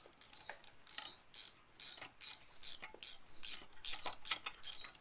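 A wrench ratchets in quick, regular bursts of sharp clicks as a thread-locked bolt is run in on the front axle of a 1971 Range Rover. About a dozen close, crisp strokes follow one another with no voice over them.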